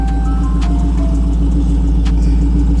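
A Dodge Charger Scat Pack engine idling loud and close, a steady deep rumble with a faint tick or two over it, no voices.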